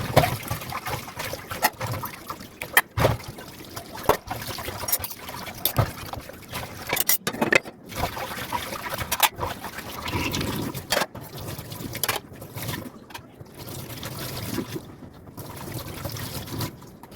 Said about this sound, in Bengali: স্কুলে দিয়ে এসে কতগুলো বাসন ছিল সেগুলো মেজে নিলাম।